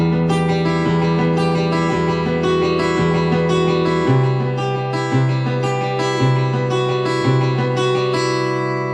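Clean amplified acoustic-electric guitar strumming chords in a steady rhythm, bright and full with a touch of reverb, no voices.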